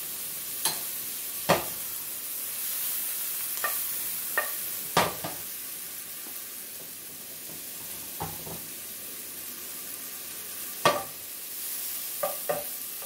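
Prosciutto fries with a soft steady sizzle in a pan as a utensil scrapes and stirs it, giving several sharp knocks and scrapes spread across the stretch, with no talking.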